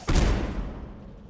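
A grenade blast in the game Dishonored, killing a pack of rats: one sharp, loud boom followed by a rumbling decay with no talk over it.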